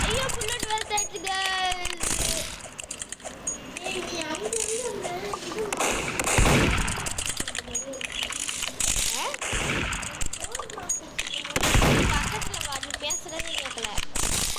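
Rapid gunfire bursts from a 1v1 shooting video game rattle repeatedly through the clip, mixed with near, excited talk from players over busy game sound.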